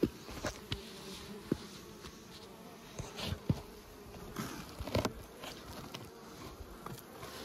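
Honeybees from a strong nucleus colony, clustered tight in cold weather at a hive opened in the snow, give a faint, low buzz and hum with scattered brief crackles and taps throughout.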